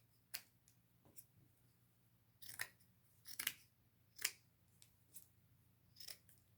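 Scissors snip lace pieces off for a vintage crossbody purse, several crisp isolated cuts spaced irregularly against a quiet background with a faint low hum.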